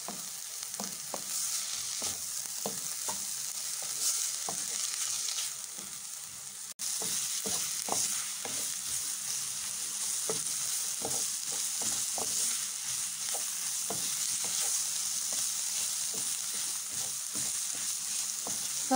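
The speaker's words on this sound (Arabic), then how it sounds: "هنا ملي تحرات ليا البصله" Chopped onion fries in a pan, seasoned with a little salt and stirred with a utensil, giving a steady close sizzle broken by frequent scraping clicks, briefly dropping out about midway before resuming at the same level.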